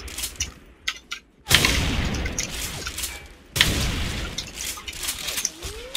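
Gunfire from a weapon in the shooter game Special Force 2: two loud, dense sustained volleys of shots, each starting abruptly and trailing off, with sharp mechanical clicks and rattles in the quieter stretches.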